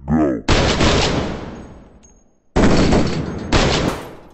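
Loud close gunshots in a video game: a few heavy booming blasts, each decaying over about a second, the first after a short voice and two more in quick succession near the end.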